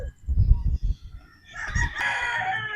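Boston Roundhead broodstag rooster giving a single close crow in the second half, preceded by low clucking and grunting sounds.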